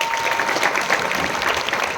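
Clapping from an audience at a school gathering, a steady and fairly close patter of many hands that carries on evenly with no talk over it.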